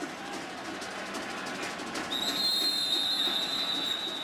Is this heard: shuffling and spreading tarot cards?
no